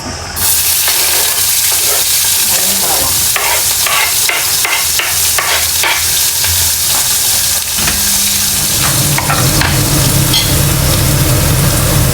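Chopped onions frying in a pan for ginisang ampalaya, a steady loud sizzle with repeated scraping stir strokes throughout, near and without talk.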